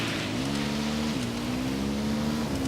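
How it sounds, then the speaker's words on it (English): A motorcycle engine in the video game Ghost Recon Wildlands hums at steady revs with a few small pitch shifts as the rider moves along, close and continuous with no talk. "Riding the motorcycle now."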